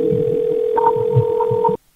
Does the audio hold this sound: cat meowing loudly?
no